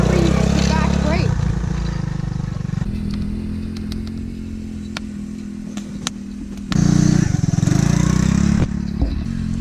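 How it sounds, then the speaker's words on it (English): A three-wheeler ATV driven by a child at a campsite, its engine droning and rising in revs nearby, with loud surges and clattering, while people talk over it. "Skylar's driving the three-wheeler on his own without Dad on the back"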